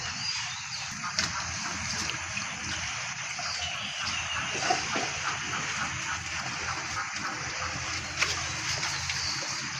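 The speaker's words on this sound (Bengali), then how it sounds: "পানি দেওয়া হচ্ছে পানি দিয়ে খাদ্যটাকে কিছুক্ষণ রাখা হবে" Water gushes and splashes steadily onto cattle feed being soaked in a bucket or trough, a continuous close pour with no talk over it.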